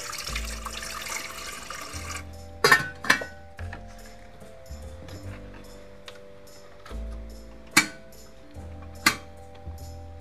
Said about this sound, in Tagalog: Kukuha lang ho ako tubig.